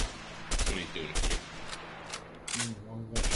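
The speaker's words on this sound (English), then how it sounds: "You can try out the SMG." Submachine gun fire in the video game A Way Out, sounding as several short bursts of shots spread across a few seconds, with a voice talking between and under them.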